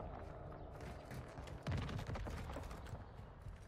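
Gunfire bursts in Call of Duty DMZ, a steady crackle of shots with a louder cluster of reports near the middle, dense and fairly close throughout.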